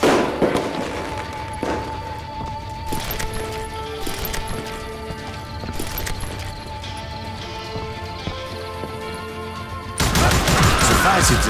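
Quick-shooter revolvers crack in the Western shooter Call of Juarez: Gunslinger, scattered sharp shots over a busy game backdrop with tones and hoofbeat-like clatter, then a louder burst of noise at the end.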